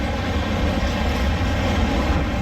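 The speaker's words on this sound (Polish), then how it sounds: "Mamy skład pociągu Intercity." An Intercity passenger train hauled by an ET22 electric locomotive rolls past, a loud, continuous low rumble of wheels and carriages that holds steady throughout.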